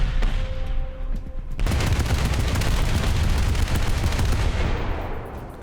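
Ship guns in the War Thunder naval game fire dense, rapid bursts of gunfire, loud and continuous, with a few heavier booms mixed in and no talking.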